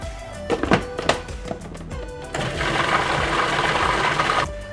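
Food processor blitzing fresh basil pesto, a few short pulses and thumps followed by a sustained whirring blend of about two seconds, fairly loud and close, with no talking.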